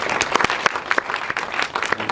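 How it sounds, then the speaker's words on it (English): A film festival audience at a post-screening talk applauds the director with steady, close, crisp clapping from many hands throughout. "So shall we give a round of applause for the director, Phuttiphong AROONPHENG?"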